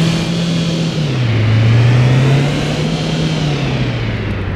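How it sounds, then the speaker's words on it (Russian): A BMW i8 engine in the City Car Driving game revs up loudly and steadily, its pitch rising and falling once through a sustained drone with no pauses. "Сейчас попробуем погазовать."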